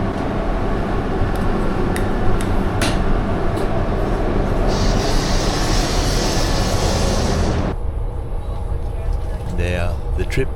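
Onboard a Sydney to Gerringong passenger train, a steady rumbling roar of the carriage in motion with a brief hissing rise midway, then the noise drops and a voice speaks near the end.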